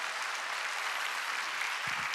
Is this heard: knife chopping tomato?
no